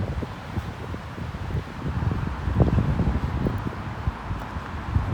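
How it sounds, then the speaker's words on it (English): Steady outdoor wind rushing past, low and blustery with some rustling, continuous throughout with no voices. "It's windy, but it's not that windy yet."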